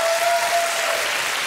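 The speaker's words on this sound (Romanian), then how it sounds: "Aplauze pentru juriu." An audience at a live show bursts into loud, dense applause for the jury, a continuous wash of clapping from many people that holds steady without anyone speaking.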